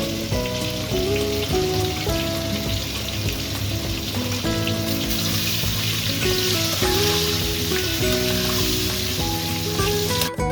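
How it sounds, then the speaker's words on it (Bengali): Potatoes sizzle and fry in hot oil with turmeric and salt in a home kitchen, a steady close crackling hiss running throughout with a background tune playing over it. "আলুগুলো ভাজা হয়ে গেছে"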